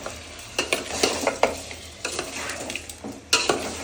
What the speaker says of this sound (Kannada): ಆ ಥರ ನೀಟಾಗಿ ಫ್ರೈ ಮಾಡೋಣ